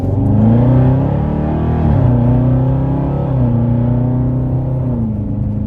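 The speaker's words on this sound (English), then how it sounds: "Let him hear my exhaust too." A deep, loud exhaust from a Dodge Charger Scat Pack's 6.4-liter V8 rumbles close by, revving up and easing back in slow rising and falling waves.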